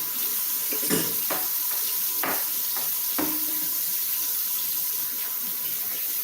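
Tap water runs into a sink while a dish is rinsed, a steady close hiss broken by a few sharper splashes and clatters against the basin.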